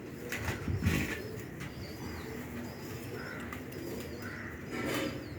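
Pigeons kept in pairs for sale coo softly and repeatedly at close range, with sudden bursts of wing flapping and a few chirps breaking through the low, rolling calls.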